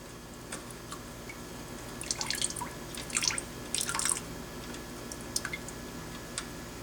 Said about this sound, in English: Once it's done draining, close the petcock.